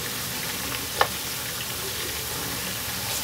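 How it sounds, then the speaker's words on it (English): Pepper fries in a hot pan for waakye stew, giving a dense, steady close sizzle with one brief sharper clink partway through. "now I'm adding my pepper. And I'm just going to let it cook for 1 to 2 minutes"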